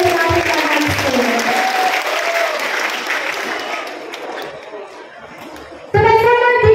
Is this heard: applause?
yes